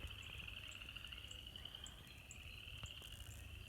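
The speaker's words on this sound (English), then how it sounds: "at least the frogs are still chirping even if it's cold" Frogs chirp from ponds in a cattle pasture on a chilly spring day, a steady, faint high-pitched trill running under regular repeated chirps, with no voices.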